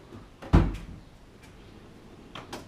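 A tool drawer slides and bangs shut with one sharp, loud knock, followed later by fainter clicks and rattles in a quiet garage during a shifter change on an AMX.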